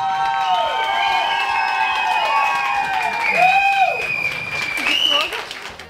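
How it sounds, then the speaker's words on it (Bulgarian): Graduating class of 2024 at a secondary school in Byala applauds and cheers as a crowd, with steady clapping running beneath a prominent singing voice that carries a melody throughout. "Страхотни аплодисменти"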